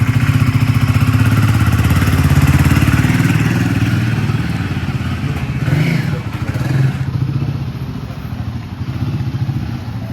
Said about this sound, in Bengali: এখন সবাই একজন একজন করে বাইকটা চালাচ্ছে